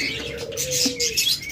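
Caged pet birds at a bird farm selling lovebirds, cockatiels and doves chirp and tweet close by, with overlapping short calls and a low cooing note over a light background hum.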